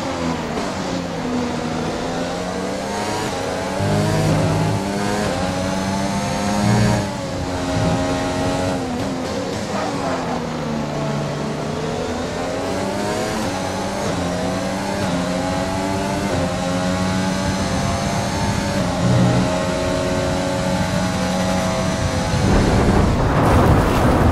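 An F1 car engine in the F1 2020 racing game screams at high revs, rising and falling steadily as gears change, loud and continuous throughout with a sharp surge near the end.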